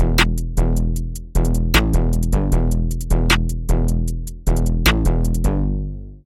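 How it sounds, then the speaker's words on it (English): A customized 808 bass built from The Prince presets by Cradleapps plays a beat with crisp hi-hats and snare hits, and its deep booming notes repeat steadily over about six seconds with no voices. "And with the hi-hat and snare, it all sounds like this."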